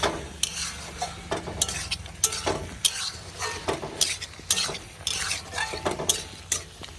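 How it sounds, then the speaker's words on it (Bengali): A taro-leaf dish stirred in a pan, rhythmic repeated spatula scrapes and clacks against the metal over a low sizzle, close and lively, with no talk. "নাড়াই টাড়াই একটু ঢাকা দিয়ে দেবো"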